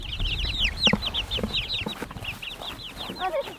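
Homestead chickens cluck and chatter in a busy flock, a rapid run of close, overlapping clucks with a low rumble beneath.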